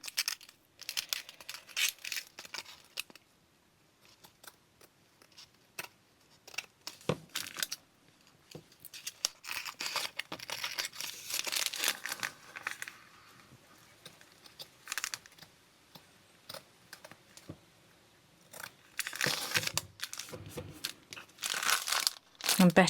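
Scissors snip and crinkle through a thin glassine bag while a journal is being made, with irregular crisp cuts and rustling close by, in bursts with pauses.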